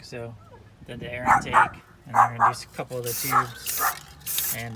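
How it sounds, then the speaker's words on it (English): A dog barks in the background as several short yips spaced through the clip, partly masked by someone talking steadily in the foreground during work on a 2005 GMC Sierra engine bay. "Excuse the dog barking in the background."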